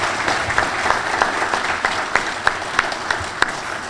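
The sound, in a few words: audience applause at awards ceremony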